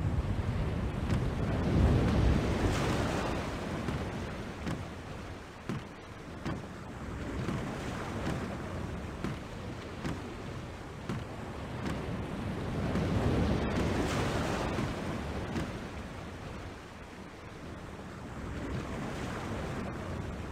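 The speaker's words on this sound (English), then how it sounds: "It's closing in faster than any storm I've seen or heard, chaos or otherwise." Crashing waves and gusting wind of a storm at sea in the video game The Longest Journey keep up a continuous, rumbling surge that rises and falls throughout.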